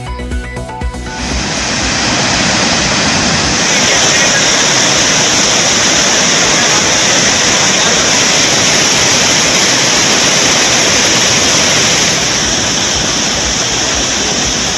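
Manimuthar falls swollen by continuous rain sends up a loud, steady roar of crashing water that holds unbroken from start to finish, with no voices.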